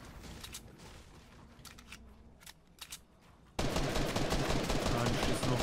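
Video game gunfire during a battle royale match, a steady crackle of rapid shots building into a loud, dense burst of automatic fire, with no one talking over it.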